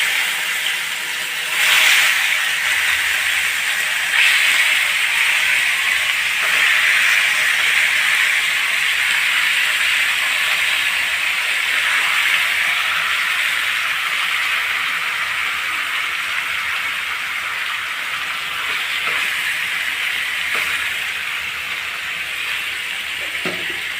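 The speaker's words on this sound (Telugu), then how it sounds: "ఇప్పుడు చికెన్ ఫ్రైకి ఆయిల్లో వేసేస్తున్నాను" Marinated chicken pieces fry in hot oil for a chicken dum biryani, giving off a loud, continuous hissing sizzle that holds steady for the whole span with small crackles scattered through it.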